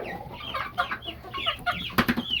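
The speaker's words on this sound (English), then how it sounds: "The little Americanas, the little Brahmas with the bigger ones." A mixed flock of young Ameraucana and Brahma chickens, penned together with older birds, clucks and chirps nearby. The short calls overlap in uneven bursts, with a brief clatter near the end.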